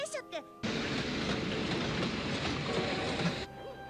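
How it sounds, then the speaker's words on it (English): Sea train from the anime film One Piece: Film Z rumbles past with a dense, steady rolling roar that starts abruptly and cuts off after about three seconds. "a sea train."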